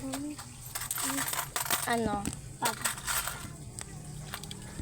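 Coins being handled together with scissors and a cutter: a run of bright metallic clinks and jingles, several quick clustered rattles close to the microphone over a low hum, no clear talk.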